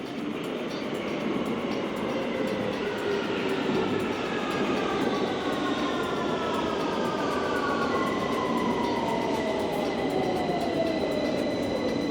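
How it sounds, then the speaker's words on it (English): A London Underground Victoria line train rumbles steadily throughout, with rising and falling whines from the motors and wheels on the track, loud and close, no voices. "We're now going to get the tube back into London Paddington on the Victoria line."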